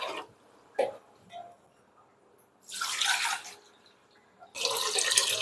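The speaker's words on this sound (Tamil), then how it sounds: "தண்ணி ஆட் பண்ணிக்கலாம்." Water poured into rice flour batter in a pot, a few soft drips followed by two longer bursts of splashing pouring, close and fairly quiet with no talk.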